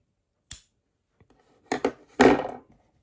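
Scissors snip crochet yarn during a pixel-style crochet colour change, a few short, close, quiet cuts and rustles separated by silence, with no talking.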